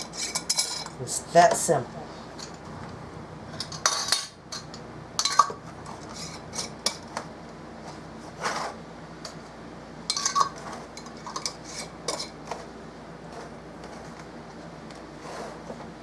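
Metal bands being screwed finger tight onto glass canning jars of turnips, giving scattered light clinks and scrapes of metal on glass with quiet pauses between, and someone speaking briefly.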